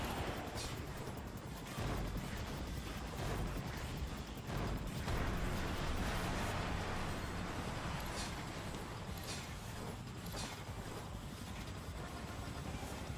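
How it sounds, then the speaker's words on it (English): Explosions in the video game Shinobi: Art of Vengeance, a dense continuous roar of blasts and crackling bursts with sharp hits layered throughout, loud and unbroken. "Jumping through an explosion."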